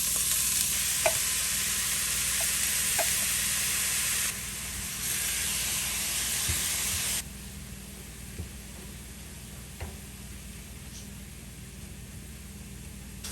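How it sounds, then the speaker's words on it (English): Vegetables fry in olive oil in a pan, giving a soft, steady sizzle and hiss with a few faint clicks and taps, and the level drops partway through. "While the veggie is getting cooked up"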